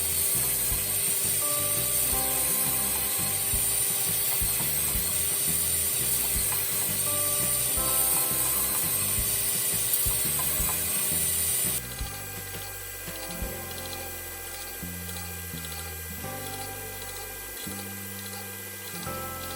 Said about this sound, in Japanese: 400番で磨いていきます。